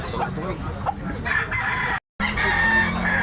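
A big spangle white-legged bullstag rooster at a Tabunok, Cebu market crows amid clucking fowl, with a brief dropout partway, over low background voices.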